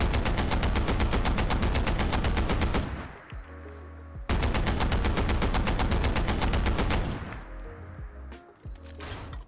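Mark 22 heavy weapon from a Fallout 4 mod firing in long, loud sustained bursts, each lasting a few seconds and broken by a brief pause filled with mechanical reload clanks.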